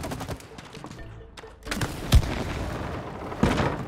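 Gunshots in the video game It Takes Two: a few sharp, separate blasts over a murky game background, one louder crack standing out near the middle and another toward the end, with no talk.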